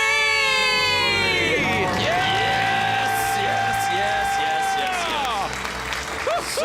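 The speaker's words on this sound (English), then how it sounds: "Let's hear a debt-free scream." A loud crowd screams and cheers together in a sustained roar at a live debt-free celebration, with whoops and applause continuing throughout.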